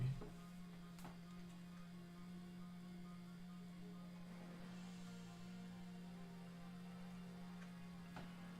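A Nintendo Switch console gives off a steady low electrical hum, faint and unbroken throughout, with no voices over it.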